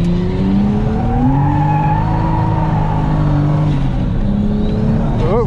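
Drift car engine wails and revs at Nikko Circuit as a car spins out, tires squealing in a steady, loud roar with shifting pitch, faint talk mixed in.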